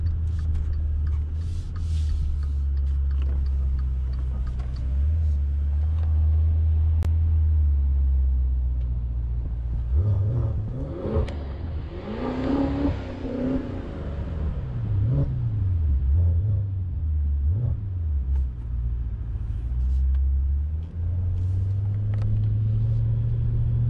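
A 550 hp Maserati SUV drives along with a deep, steady engine drone that swells into rising and falling revs midway, loud and close from inside, then settles back to a cruising hum.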